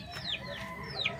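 Large Shamo chickens raised for pets and meat give short clucks with two rising-then-falling calls nearby, steady farmyard background and no talking.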